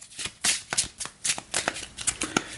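Referee cards for a tabletop boxing game are riffle-shuffled by hand, a quiet close-up series of crisp flutters and soft slaps coming in quick uneven bursts.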